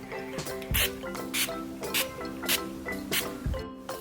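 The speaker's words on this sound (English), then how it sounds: "we're going to set our face with the Urban Decay Makeup Setting Spray" Short hissing spritzes of a makeup setting spray bottle repeat in quick bursts, about a dozen pumps, fairly close and moderately loud.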